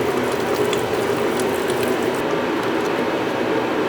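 A hand ratchet clicks rapidly and steadily, up close, while backing out the thermostat housing bolts on a 2016 Jeep Wrangler, with no one speaking.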